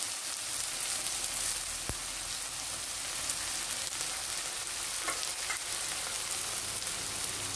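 Onions and spices frying in hot oil with a little sugar for a Bengali bata fish and potato curry, a steady close sizzle with a few sharp crackles and spatters, no talking.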